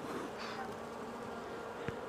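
Bees buzz around a hive frame during a spring brood inspection, a soft continuous drone of many insects nearby with one brief knock near the end.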